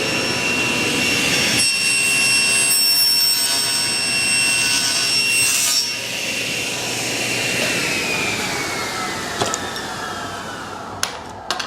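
A table saw runs loud and steady while cutting dovetail tails in wood, a continuous high whine with the blade spinning down toward the end and a few sharp knocks at the close.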